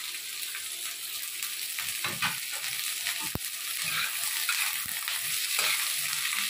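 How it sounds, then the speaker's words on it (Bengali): Chopped onion sizzles in hot mustard oil in a pan, a steady crackling fry with occasional stirring scrapes and a sharp utensil tap, close and continuous with no talk. "পেঁয়াজটা ছেড়ে দিলাম। পেঁয়াজটা একটুখানি ভাজা ভাজা হবে"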